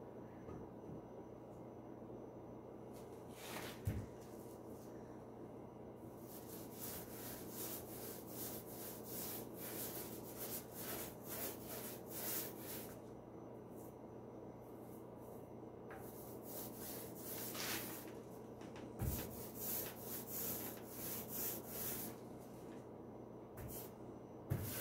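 A paint roller rolls back and forth across a wooden dresser top in repeated soft, rasping strokes, each pass a brief scrubbing sweep, close and fairly quiet.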